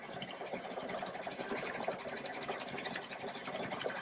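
A Baby Lock Solaris sewing machine embroidering a design, a loud, close, continuous rapid mechanical stitching whir that holds steady throughout.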